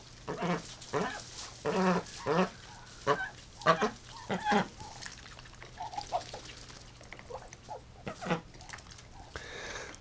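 Ducks, including a drake and a female kept alone in a dog cage for weeks, call near by in a run of repeated honking quacks with short pauses, loud and close with no talking.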